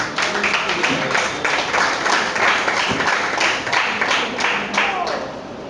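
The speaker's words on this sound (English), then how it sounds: "A round of applause for her, please" An audience at a book reading event applauds a student reader, producing a steady, fairly loud patter of many hands that holds evenly and fades slightly at the end, with faint voices beneath.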